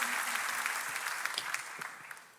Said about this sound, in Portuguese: Dê um aplauso para Ele, porque Ele vai fazer isso nesses dias